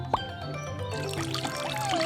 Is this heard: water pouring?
yes